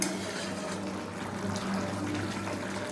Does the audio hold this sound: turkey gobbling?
no